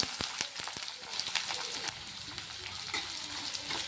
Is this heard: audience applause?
no